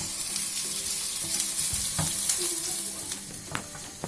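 Sliced ginger and garlic frying in a pan, an even close crackling sizzle with a few sharp utensil taps and scrapes against the pan, no talking.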